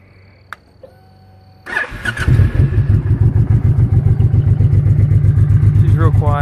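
Honda VTX 1800C cruiser motorcycle starting up: starter clicks and a brief crank, then the big V-twin catches and settles into a deep, loping, rhythmic idle up close. A voice is heard during the idle.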